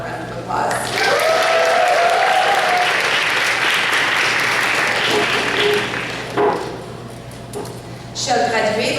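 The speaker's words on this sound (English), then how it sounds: "can you just give parents and family one more round of applause?" Loud, dense applause from a graduation audience, honoring parents and family at a French immersion program ceremony, sustained for several seconds and tapering near the end, with some voices mixed into the crowd noise.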